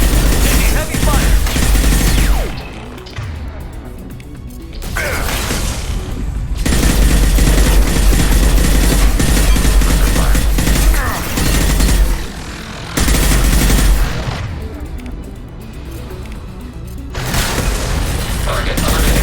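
Heavy gunfire in the Mass Effect Legendary Edition video game, loud sustained bursts of weapon fire and booms that drop away briefly and return, with game voices calling out over the combat.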